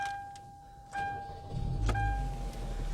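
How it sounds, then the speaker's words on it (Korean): A Hyundai NF Sonata Transform with about 40,000 km on it starts up amid steady dashboard chime tones, a low engine rumble swelling midway and settling into a close idle. "시동을 한번 걸어 볼게요 잘 걸리나"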